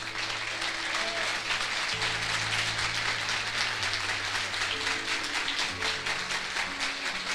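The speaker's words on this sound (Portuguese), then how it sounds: "Vamos aplaudir ao Senhor por isso?" A church congregation applauds together, a continuous broad wash of many hands clapping at a steady level, with sustained keyboard chords held underneath.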